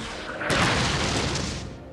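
A rocket explosion in the video game Fallout: a loud, close boom erupts suddenly and sustains a broad rumbling roar with debris-like crackle for over a second before easing off.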